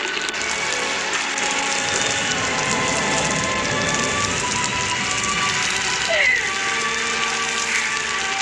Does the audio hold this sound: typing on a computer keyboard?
no